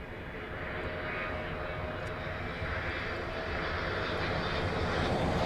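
A fixed-wing aircraft landing at Dublin Airport makes a steady, loud engine roar that holds evenly close by throughout, with no talk over it.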